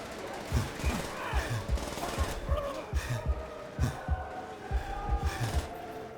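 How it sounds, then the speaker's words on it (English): Bursts of MG42 machine-gun fire crackle through a Call of Duty World at War battle, repeated sharp thumps at irregular intervals with voices and battle noise mixed underneath. "There's an MG42 on the first floor"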